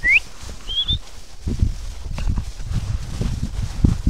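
Horse hooves thud on the ground while heifers are herded into a corral for vaccination, giving low, uneven footfalls close by, with two short whistles at the start.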